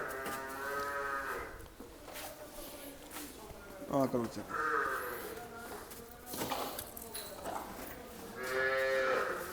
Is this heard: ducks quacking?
no